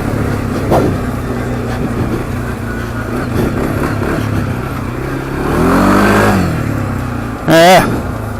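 A Textron Offroad VLX 700 side-by-side engine drones and revs on a bumpy trail, rising to a loud swell and then a sharp rev near the end, with a voice talking over the running engine.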